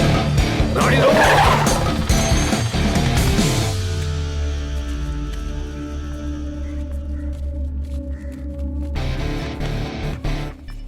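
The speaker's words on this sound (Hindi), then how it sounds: "गाड़ी रोको।" A car brakes hard with a loud, close tire squeal lasting a few seconds, followed by a lower rumble as the vehicle rolls to a stop, with a voice briefly heard in the scene.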